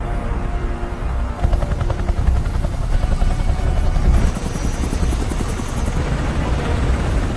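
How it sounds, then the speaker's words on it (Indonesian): A helicopter's loud, steady rotor chop and engine roar fill the whole stretch, close and continuous without letup. "Menggunakan 2 helikopter, Alan dan tim pun diantar menuju titik pendaratan."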